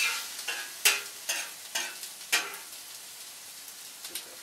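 Chuck steak frying in oil in a pan, stirred with a utensil: a run of sharp scraping stirs and clatters at irregular intervals over a steady soft sizzle, close by with no talking.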